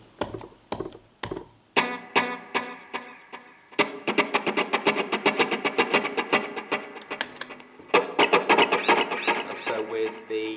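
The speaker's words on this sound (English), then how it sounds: "For this delay I'm using the TC Electronic Nova delay" Electric guitar through a TC Electronic Nova delay on a dotted-eighth setting, mix and modulation at noon, playing picked notes that repeat in rhythmic echoes, sparse at first and then a denser run of plucked, ringing tones.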